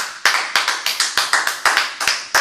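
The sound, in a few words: congregation clapping to acclaim Jesus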